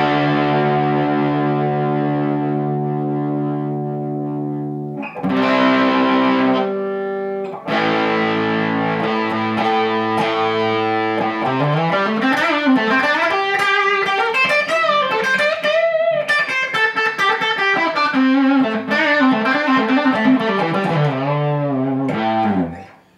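Epiphone Les Paul electric guitar played through a miked open-back speaker cabinet with a room mic, heard alone as a steady, continuous stretch of sustained chords and melodic runs with light distortion and effects, slightly bass-heavy.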